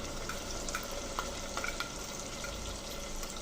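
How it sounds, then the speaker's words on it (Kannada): Ground masala paste fries in a pan for Malnad-style chicken curry, giving a constant low, crackling sizzle with faint scattered pops throughout. "ಇದು ಒಂದು 5 ನಿಮಿಷ ಮಸಾಲೆ ಫ್ರೈ ಆಗಲಿ."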